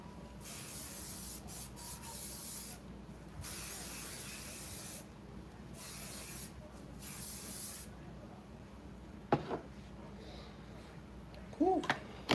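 Hairspray for shine and sheen sprayed onto hair from an aerosol can, several close, loud hissing bursts of a second or two each in an irregular rhythm, followed by quieter rustling and faint background noise.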